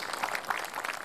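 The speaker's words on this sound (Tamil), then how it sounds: "பெரிய கைத்தட்டல் கொடுக்கல குழந்தைக்கு" Brief burst of audience applause for a child at a children's fun show, a dense, steady patter of many hands lasting about a second.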